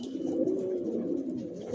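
Adult racing pigeons kept as breeding stock give a low, continuous burbling coo, faint and close, with no voices over it.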